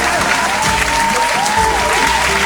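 Stock applause effect in an Urdu phonics lesson for children: loud, dense, continuous clapping that fills the whole stretch, with a faint tonal line and voice-like traces mixed beneath it.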